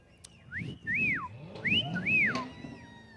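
A person whistles a short two-note swooping call twice, clear and close, over faint background murmur at a Veterans Day parade.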